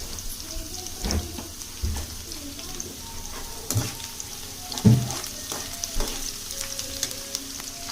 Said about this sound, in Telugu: కరివేపాకు ఇవి కూడా వేస్తే ఉల్లిపాయలతో పాటు వేగిద్ది